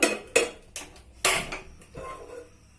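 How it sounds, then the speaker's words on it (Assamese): A metal wok is picked up and set on the stove, producing several sharp, close knocks and clanks spaced unevenly over a few seconds. "এয়া মই কেৰাহী লৈছোঁ"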